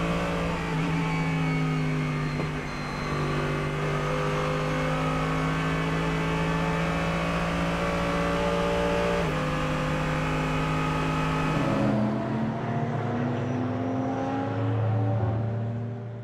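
Race cars at the 2018 Nürburgring 24-hour race run through spray, their engines droning steadily with shifting pitch as they pass and fade, loud and continuous with no talk.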